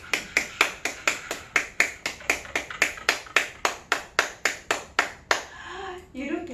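Soft, hollow claps made with cupped hands shaped like a flower bud, in a laughter-therapy exercise. About twenty evenly spaced claps in a steady quick rhythm, close and gentle, then a voice starts speaking.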